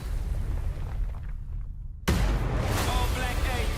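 A rocket explosion from a video game trailer shown at a Summer Game Fest viewing gathering hits with a sudden deep boom partway through, after which loud rumbling and crowd noise carry on, with voices talking before it.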